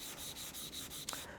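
Fujiwara kitchen knife drawn back and forth on a sharpening stone, a steady rhythmic scraping rub with even pressure, close and fairly quiet, ending in a brief sharper scrape.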